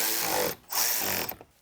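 A power tool driving M8 screws into the wheel well of a 2019-2026 BMW G05 X5, two loud whirring bursts of motor and ratcheting separated by a brief pause.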